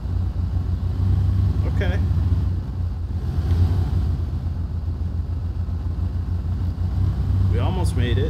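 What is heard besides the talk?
Land Rover Defender 90 engine crawling in low gear, SnowRunner video game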